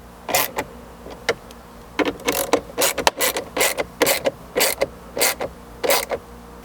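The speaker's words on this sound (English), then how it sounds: "You can grab your 7mm socket once again and tighten it back into place." A 7mm socket wrench ratchets in short, repeated clicking bursts while tightening a dash accessory mount bracket on a Chevy Colorado, close and distinct against a quiet background.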